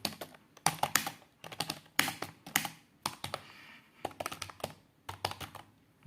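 Rapid typing on a Punta P-KB301 wired keyboard, bursts of crisp close key clicks in irregular clusters with brief pauses between, loud and alone without talk.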